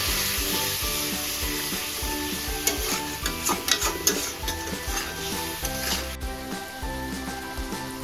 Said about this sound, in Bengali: এটা আমাদের ততক্ষণ কষিয়ে নিতে হবে যতক্ষণ মশলা থেকে তেলটা না আলাদা হয়ে যাচ্ছে